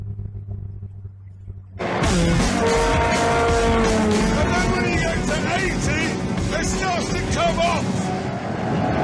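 A car travelling at speed skids, its tires squealing loudly after a quiet start, with engine roar and voices mixed into the continuous noise.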